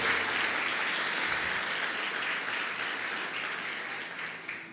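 A church congregation breaks into strong, continuous applause in praise, a loud dense wash of clapping that slowly tapers over nearly five seconds.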